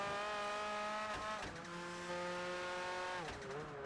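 Engine of a race car in Project Gotham Racing 4, a loud sustained roar whose pitch climbs and drops sharply at several gear changes, with a brief tire squeal, alone without speech.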